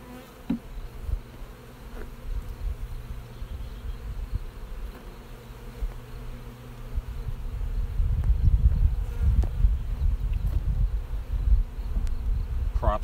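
Honey bees buzzing around hive frames during beekeeping, a dense steady drone close by that swells louder in the second half, with occasional handling knocks of the frames.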